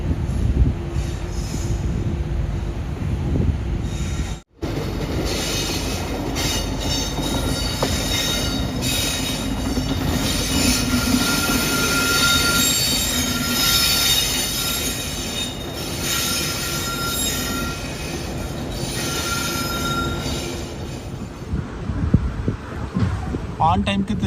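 Loud, sustained metallic wheel squeal from a locomotive-hauled passenger train at Tirunelveli Junction, steady rumble and screeching tones running throughout, with a brief dropout early and faint voices underneath.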